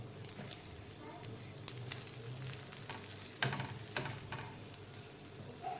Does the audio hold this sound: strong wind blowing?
no